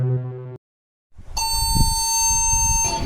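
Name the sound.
emergency alert system alarm tone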